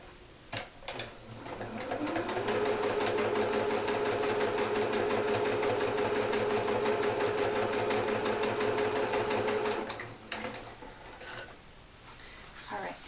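A sewing machine stitching fabric pieces together for a quilt, running in a long steady whirring burst for about eight seconds, with brief clicks and handling noises before and after.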